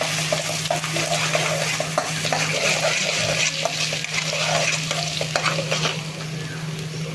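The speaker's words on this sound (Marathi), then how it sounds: "थोडं वाटप फ्राय व्हायला देऊया" Ground masala paste fries in hot oil for a spicy mutton dish, a loud, dense, continuous sizzle with scattered clinks of a spoon against the pan, up close with no voices.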